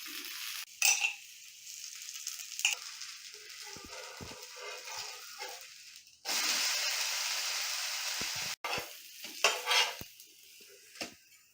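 Wheat dosa batter cooking on a hot pan while a spoon spreads it, with irregular scrapes and clinks over a soft sizzle, including a louder stretch of frying hiss midway.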